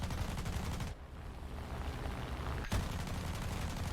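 Aircraft guns firing in an S-199 Sakeen flight video game: dense, continuous rapid gunfire rattling loudly throughout, with a brief dip near the start and a sharp burst later on.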